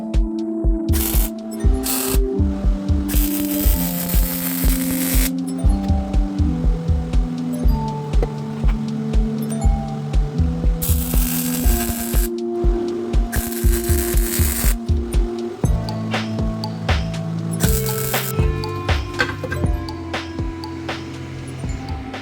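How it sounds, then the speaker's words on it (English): Welding a straight exhaust pipe on a Mitsubishi with a 1.5L turbo engine, with repeated bursts of loud crackling buzz separated by short pauses over a steady electrical hum. "But let's go ahead and weld this."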